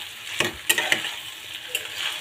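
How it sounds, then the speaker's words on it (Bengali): Boiled potatoes are stir-fried in spiced masala for an egg and potato curry, a steady close sizzle broken by a few sharp spatula scrapes against the pan, with no voices. "তো আলুটাকে দিয়ে একটু কষিয়ে নেব।"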